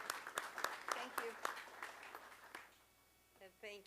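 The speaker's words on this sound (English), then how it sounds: "And thank you for clapping." Audience applause after introductions at a maritime panel event, a loud burst of hand claps that fades away, followed by a voice starting to speak.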